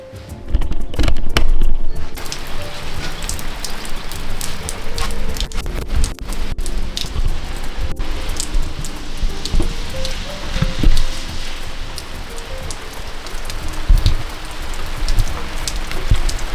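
Heavy rain pours steadily beside a house rain gutter with a bent, misaligned inlet, water spilling from a gap instead of draining through the downspout; a loud, continuous close hiss with scattered drips and splashes, and no talk.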